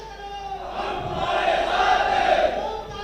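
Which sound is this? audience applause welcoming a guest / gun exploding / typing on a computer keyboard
audience applause welcoming a guest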